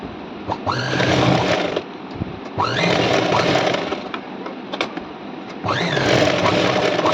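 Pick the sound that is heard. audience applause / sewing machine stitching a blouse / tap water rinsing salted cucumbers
sewing machine stitching a blouse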